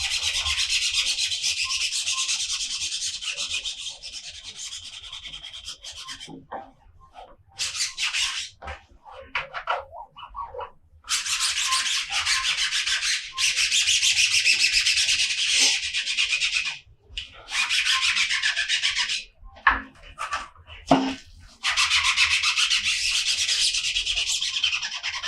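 A screen-printing screen is rubbed clean over a printed design in long continuous scrubbing strokes, close and loud, broken by a few short pauses and some squeaky passes.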